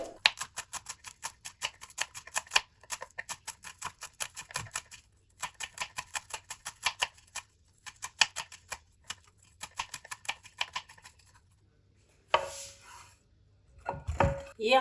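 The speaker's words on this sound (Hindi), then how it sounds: "अब हरा धनिया इसकी कर लेंगे हम कटिंग" Knife chopping fresh green coriander on a board, a run of quick, even, close taps in bursts with short pauses, ending in a few louder knocks and handling noises.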